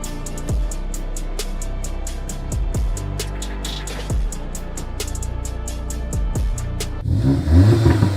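A car revs and accelerates hard through repeated gear changes on a test drive, the engine loud and close with rhythmic surges; the wind and road noise swell near the end.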